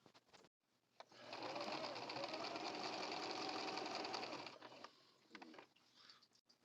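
A sewing machine runs a wide, short-length zigzag stitch across a drawstring project bag, a steady close whirring burst of about three and a half seconds with quieter clicks before and after.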